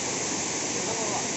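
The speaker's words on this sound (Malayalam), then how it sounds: "ഓ ചേട്ടാ ഈ വെള്ളച്ചാട്ടത്തിന്റെ ഭംഗി ആസ്വദിക്കുന്നതാണ്ടോ" Alakapuri waterfall roars as a steady, loud, dense rush of falling water, close by and continuous throughout.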